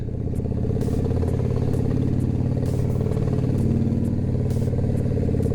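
Honda motorcycle on a test ride after a fork spring replacement, engine droning steadily and loud throughout with a constant low rumble and light clatter, close to the rider.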